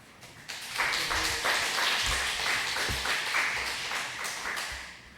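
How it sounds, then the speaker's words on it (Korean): A church congregation claps in welcome, a dense, steady round of applause that builds quickly, holds for several seconds and then tapers, heard from within the room. "우리 환영의 박수로 인사해 주셨으면 좋겠습니다."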